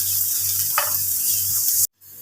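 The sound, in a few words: onions frying in a pan with turmeric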